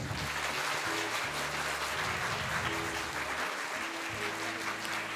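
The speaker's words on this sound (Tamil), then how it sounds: "பெண்கள்லாம் ஒரு முறை ஜோராக கைத்தட்டுங்க பார்ப்போம்" Women in an audience clap hard at a Women's Day celebration, a loud steady roar of many hands, with a low humming tone underneath.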